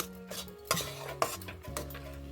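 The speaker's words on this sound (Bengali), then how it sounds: "এই সুজিটাকে আমি অনবরত নেড়ে চেড়ে একটা ডো তৈরি করে নেব" Semolina is stirred steadily in a pot over low heat as it thickens into a dough. Soft scraping strokes and light utensil knocks repeat against the pot, quiet and close, over a faint sizzle.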